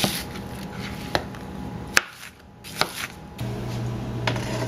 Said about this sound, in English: Dicing up a sweet onion.